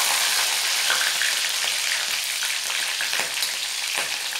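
Slit green chillies fry in hot oil as a tempering for chivda, giving a loud, continuous crackling sizzle with scattered sharper pops throughout, with no voices over it.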